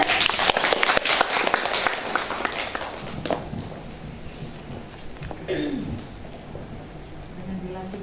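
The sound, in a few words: audience applause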